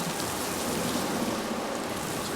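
Steady hiss of water from a simple sprinkler system spraying to mimic rainfall along a Universal Studios Hollywood tram tour, continuous and fairly loud throughout with no talking.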